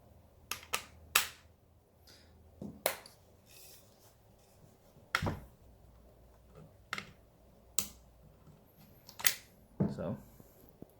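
A Noreen BN36 AR-style rifle chambered in 30-06 is taken apart with a quiet series of sharp metallic clicks and snaps, spaced irregularly, while someone talks softly between them.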